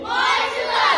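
A group of parish children shouts a chant in unison, loud and close, one sustained burst of many voices together.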